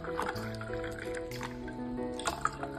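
Water poured into a glass of ice and syrup for kairi panha, giving a quiet gurgling fill with small drips and clinks, close and brief, over a faint tonal background.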